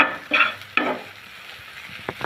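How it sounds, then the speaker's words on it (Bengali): Egg and sweet pumpkin flowers frying in a pan are stirred with a utensil, giving a couple of scraping strokes over a steady low sizzle, followed by a few light clinks. "ভালো করে নেড়ে চেড়ে নিব।"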